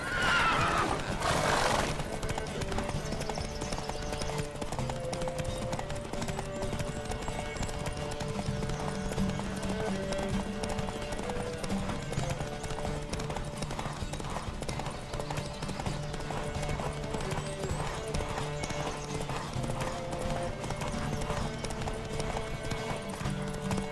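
Horses gallop in a race in the video game The Witcher 3: Wild Hunt, a rapid, steady clip-clop of hooves, and a loud whinny rings out near the start. The hoofbeats continue unbroken throughout.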